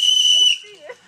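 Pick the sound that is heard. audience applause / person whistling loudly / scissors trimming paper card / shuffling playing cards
person whistling loudly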